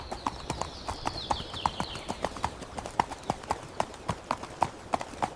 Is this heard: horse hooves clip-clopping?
yes